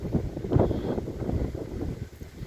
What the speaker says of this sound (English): Ooh, that was wind right there. All right. Very windy today.